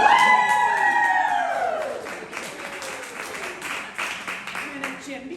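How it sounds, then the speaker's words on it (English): A book launch audience in Ottawa breaks into cheering and applause, the clapping rising as a speaker's voice trails off, then continuing as a lively, moderately loud crowd sound. "I'm waiting for a loud, resounding cheer, my gang at Iron North"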